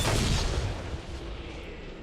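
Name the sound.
bomb explosion in video game Dragon Age Inquisition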